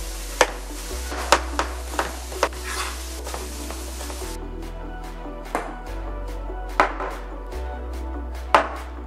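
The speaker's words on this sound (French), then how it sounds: "je vais préparer un oignon que je vais émincer assez finement" An onion is finely sliced with a knife for homemade tacos. Sharp, separate cuts land irregularly on a board against a low, steady background hum, with no talking.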